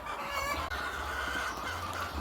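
Laying hens on a 1,000-bird layer farm in The Gambia cluck steadily, several birds overlapping in a close, continuous flock chatter with no talk.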